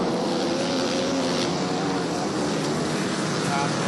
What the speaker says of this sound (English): Terry Vestos on that KTM. 4-stroke, 450, I believe. Could be a 500.